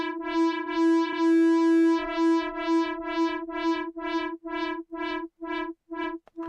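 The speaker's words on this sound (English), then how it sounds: "so that's sweeping through the wave folding" A West Pest synthesizer sweeps through its wave folding: a sustained bright tone swells and thins, then breaks into a steady run of about a dozen short pulsed notes, loud and close, with no voices.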